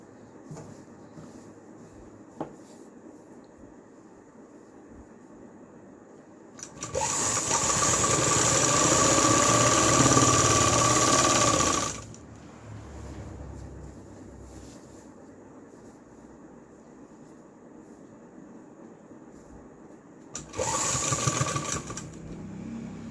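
A sewing machine stitches a salwar belt in two bursts, a long loud run of several seconds and a shorter one later, with quiet pauses between and no talking.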